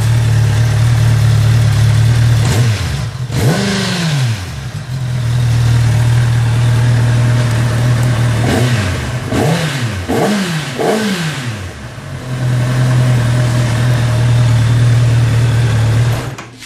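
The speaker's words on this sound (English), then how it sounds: "I'll give it a bit of a rev, and then you get an idea of what these things sound like" A loud Kawasaki ZX-10R sport motorcycle engine with stock exhaust idles steadily, then revs sharply several times in quick bursts before settling back to a rumbling idle.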